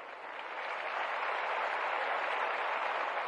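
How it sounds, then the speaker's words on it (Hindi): A large audience claps continuously for police recruits at a Bihar ceremony. The applause is a thick, steady wash that swells a little after the first moment and holds loud throughout. "तालियों में कोताही ना करें।"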